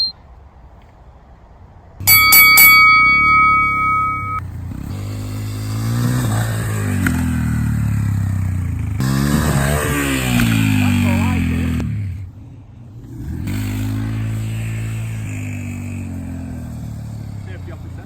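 A dirt bike engine revs hard during a long ramp jump, a rising and falling motor roar that mostly sits under steady talking commentary.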